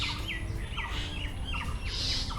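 Common myna birds near a nest in a roadside village tree give repeated short chirps and squeaky calls over a steady background hiss, moderately distant.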